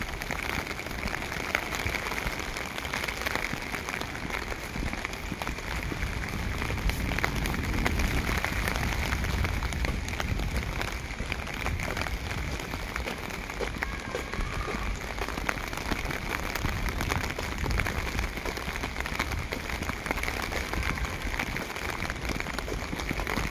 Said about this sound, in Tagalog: Ulan pa more.